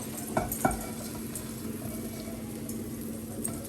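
Celery cooking with chili flakes and salt in a heavy pan gives a faint, steady sizzle, broken near the start by two sharp clinks of utensil on pan.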